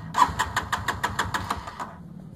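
A small engine fired up briefly after its carburetor was drained of water-contaminated gasoline, giving a rapid, rough run of regular pulses for under two seconds before dying away.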